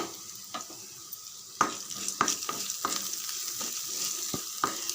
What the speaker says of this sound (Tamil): வெங்காயம் பாதி அளவுக்கு வதங்கினா போதும்